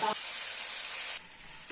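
Chicken pieces frying in oil until lightly browned give a steady bright sizzle that drops off abruptly partway, with a brief voice at the start.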